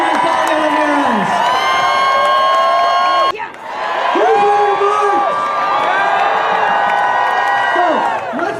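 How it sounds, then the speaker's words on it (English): A large crowd at the No Kings Day march in downtown Chicago cheers and whoops loudly with scattered applause, voices rising in sustained waves, briefly dipping before swelling again. "Let's give another round of applause to Governor J.B. Pritzker and Congresswoman"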